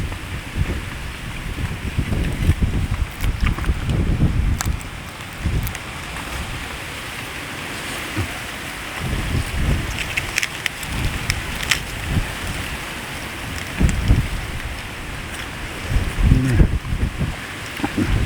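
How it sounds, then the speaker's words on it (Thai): Cool wind blowing outdoors beside a grill of salt-crusted fish, a continuous airy rush with rumbling gusts and microphone buffeting that rise and ease throughout, no clear talking. "มันเป็นลมพัดนำน้อง"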